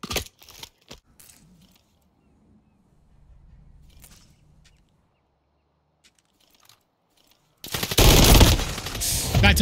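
Gunfire from the JAK Burnout kit gun in a shooter game comes in short rapid bursts at the start, then near silence with faint game sounds, before a dense, loud burst of automatic fire erupts near the end.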